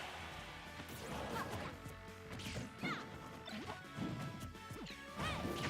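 Hard smashing hits and crashes from a Super Smash Bros match, an up smash landing on an opponent amid busy, steady game effects and clanging impacts.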